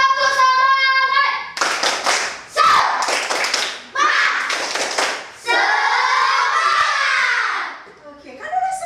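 A classroom of pupils performs a rhythmic spirit clap, with sharp bursts of group clapping close by, broken into patterned runs and mixed with children's chanting voices.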